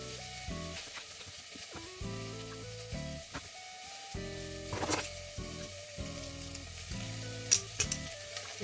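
Garlic and onion sizzling in a pan for Algerian riz 3a djej, with a steady close frying hiss, a few stirring clicks and brief louder pops toward the end.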